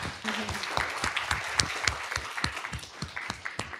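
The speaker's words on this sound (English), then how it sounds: "So one more round of applause for Millie." A small audience at a fashion technology talk gives a brief round of applause, individual claps distinct and uneven, fairly close and moderate in volume.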